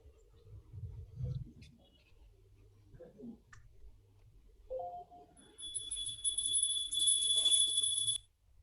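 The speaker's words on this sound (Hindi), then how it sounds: "अलार्म किसका बज रहा है रे?" An alarm beeps in a high, steady electronic tone for about three seconds at the end, moderately loud over faint room noise and scattered quiet clicks.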